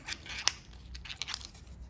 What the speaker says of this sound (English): You have to get scissors to cut these little fellas out.